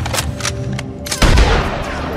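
Gunshots in Red Dead Redemption 2 crack out over a steady background rumble, a few quicker reports early on and then a heavier, booming blast about halfway through.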